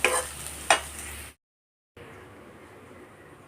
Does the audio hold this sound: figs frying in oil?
yes